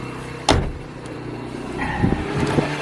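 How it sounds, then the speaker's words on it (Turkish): A car door shuts with a sharp thud near the start, followed by a car engine idling steadily and a few soft interior clicks and knocks as people settle in. "Geri arabaya bindik."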